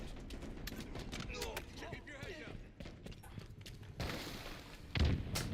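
Gunfire in the video game Halo Infinite, scattered rapid shots and bursts crackling through the match while a player talks over the action.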